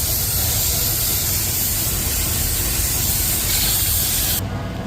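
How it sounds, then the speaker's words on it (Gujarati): Spray gun applying car paint to a panel with compressed air, Maruti Ritz star gaze blue colour in a paint shop: a loud, continuous hiss held steadily for several seconds before cutting off near the end. "આ ભાઈ જે છે ને આ કલરનો સ્પ્રે કરી રહ્યા છે"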